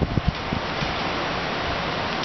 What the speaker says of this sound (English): That is some strong wind.